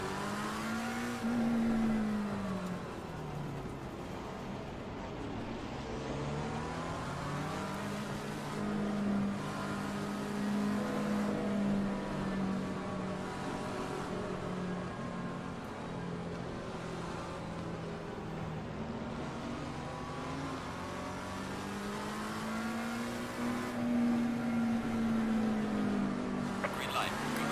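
Race car engine in Assetto Corsa Competizione at the Nürburgring, rising and falling in pitch through repeated revs and gear changes, moderately loud and continuous with no talk.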